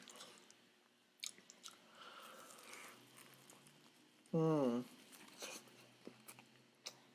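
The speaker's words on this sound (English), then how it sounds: "Let's try some fried chicken." Jollibee Chickenjoy fried chicken, a drumstick, bitten and chewed close to the microphone, with soft crunchy bites and mouth sounds scattered through the quiet, plus a brief loud vocal sound in the middle.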